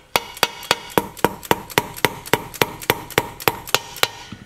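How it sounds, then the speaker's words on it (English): A punch is tapped with a hammer to work an oiled seal into the rear end assembly of a Honda S600 chain drive car, about sixteen sharp metallic knocks in a steady, even rhythm, close and alone. "no reason why you can't work it in evenly with a punch"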